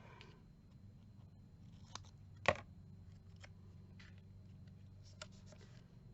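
Scissors cut paper scraps from book pages in a few quiet, close snips, with one distinct louder crisp cut in the middle, against a faint low background hum.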